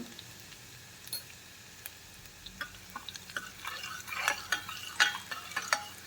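Garlic sautéing in a pan, a quiet close sizzle broken by a run of spoon scrapes and light clinks that grow busier toward the end, with no talking.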